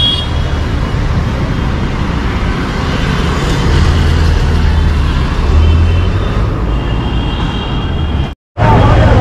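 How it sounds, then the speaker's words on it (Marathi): Steady traffic roar from vehicles moving along a road near the Victoria Memorial in Kolkata, a dense continuous rumble with a brief cut-out near the end. "तिकडून रस्त्यावरून गाड्या जात आहेत"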